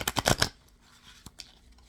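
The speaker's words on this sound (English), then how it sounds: "So we're going to shuffle the cards." A deck of oracle cards is shuffled in a quick riffling burst close up, followed by a quiet pause and a couple of soft card taps.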